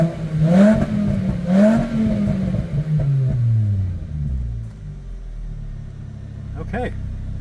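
A tuned VW Bug's engine revs in loud, rising and falling sweeps with rumbling exhaust and a few sharp pops near the end, heard from inside the car.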